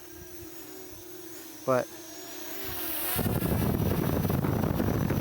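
Parrot ANAFI drone whooshes past a microphone, its propeller wash becoming a broad, rising roar of wind buffeting that continues to the end, with a steady motor hum and a brief spoken word early on.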